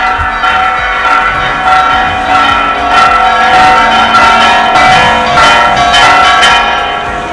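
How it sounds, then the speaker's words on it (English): Church bells ring out over Cuenca, Ecuador, a steady, loud peal of overlapping tones that carries on without pause for the whole stretch, with no voices. "including church bells"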